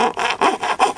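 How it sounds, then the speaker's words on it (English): A small piece of hacksaw blade saws through thin tabs holding a piece to its board: four quick, close, rasping back-and-forth strokes. "saw through the little tabs that keep the piece on the board"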